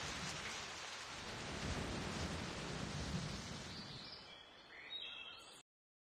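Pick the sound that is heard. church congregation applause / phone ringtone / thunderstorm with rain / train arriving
thunderstorm with rain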